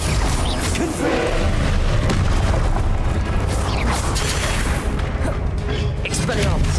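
Confringo blasting spells in the video game Hogwarts Legacy make a dense, loud, continuous barrage of booming explosions and crackling impacts with no break.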